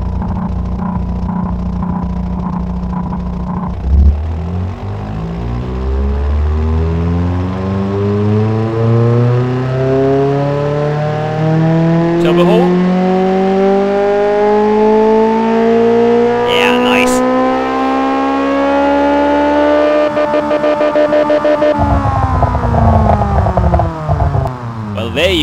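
A car engine under turbo testing revs up in one long, loud, steady climb lasting most of the stretch, its pitch rising before it drops off near the end, with a rumbling idle at the start.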